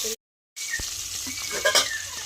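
Steady sizzling of pangas fish frying in hot oil, loud and close, with a brief silent gap near the start and a few soft clinks.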